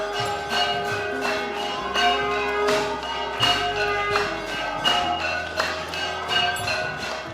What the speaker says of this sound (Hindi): शंख की ये ध्वनि और उसके साथ में ढोल नगाड़ों की आवाज़ आपको मंत्रमुग्ध कर देने वाली है।